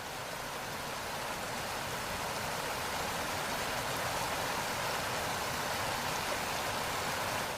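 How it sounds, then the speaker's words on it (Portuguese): A small stream flows through woods, a soft, continuous watery hiss and trickle heard close and steady throughout with no other sounds. "um pequeno córrego serpenteava pelo bosque"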